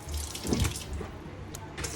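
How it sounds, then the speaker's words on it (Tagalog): Tap water runs steadily into a pot while pork mesentery for chicharon bulaklak is washed, giving a close, continuous splashing gush with small drips and sloshes. "Hugasan natin yan guys."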